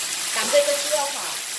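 Garlic dropped into about a tablespoon and a half of hot oil in a pan, a moderate steady sizzle with a faint tonal squeal partway through.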